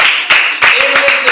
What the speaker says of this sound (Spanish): ¿Cuánto le pueden dar un aplauso al Señor por eso?